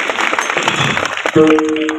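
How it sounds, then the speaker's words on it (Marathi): An audience claps together at a village Jai Durga Mata festival, a dense, steady patter of applause lasting throughout, joined near the end by a sustained musical tone. "त्यांच्यासाठी सर्वांनी एकदा जोरदार टाळ्या वाजवा."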